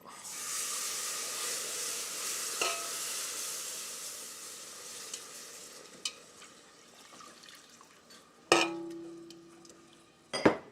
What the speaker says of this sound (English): Now stir this till it's smooth and thickened.